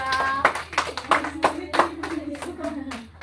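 A classroom applauding a student group, with a steady run of rhythmic hand claps from several people, close and fairly loud, mixed with voices talking over them.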